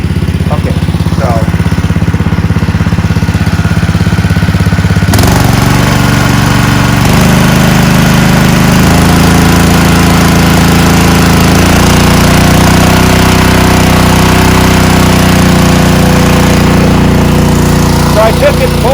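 Keene firefighting pump engine running steadily at full throttle, a loud continuous mechanical drone with a brief shift in pitch partway through.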